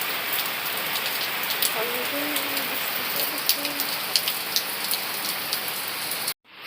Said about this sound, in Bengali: বাইরে দেখো বৃষ্টি হচ্ছে